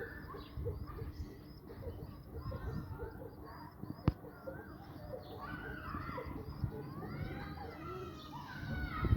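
Soft, repeated cooing and squeaky calls from pigeons close by, including a featherless pigeon chick calling, with a sharp knock midway and low background murmur.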